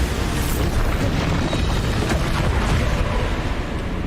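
A Bombarda blasting spell going off in Hogwarts Legacy, a loud sustained rumbling explosion roar that stays full and even throughout.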